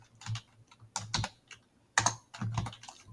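Keys on a computer keyboard are tapped in short irregular bursts of clicks while typing into an Excel spreadsheet, close to the microphone and otherwise quiet.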